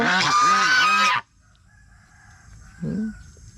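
A pet chicken crows loudly and close for about a second, then after a quiet pause gives a short cluck.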